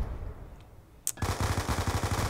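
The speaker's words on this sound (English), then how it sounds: "that sounded like a rifle" Rifle gunfire in Call of Duty: Black Ops 2 erupts after a sharp crack, a rapid automatic burst of evenly spaced shots, loud and close.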